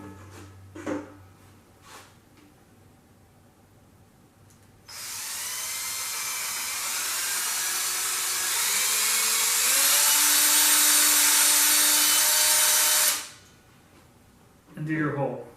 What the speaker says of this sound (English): So go ahead, take your drill.